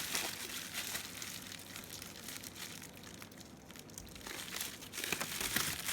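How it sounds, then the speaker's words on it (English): Faint crinkling and rustling as the flap of a candy apple shipping box is folded down, a quiet, continuous papery crumple that swells slightly near the end. "You can fold the flap down."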